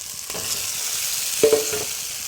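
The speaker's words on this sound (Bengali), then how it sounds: "এখন এটার মধ্যে দিয়ে দেবো ভেজে রাখা ডিমগুলো" Masala with cashews frying in a pan as fried eggs are added, a continuous close sizzle with a few sharp scraping stirs of the spoon.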